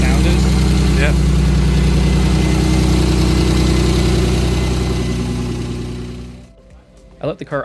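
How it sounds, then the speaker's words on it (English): A BMW E36 with a turbocharged M52 engine idles loudly and close in a steady rumble with a rapid ticking as the lifters pump up, then cuts off near the end, leaving brief talk. "The lifters are pumping up, that's what that sound is?"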